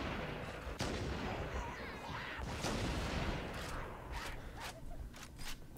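Rocket launcher fire in Halo CE Anniversary, a run of loud booming blasts and explosions layered over dense battle noise, with sharp bursts recurring toward the end.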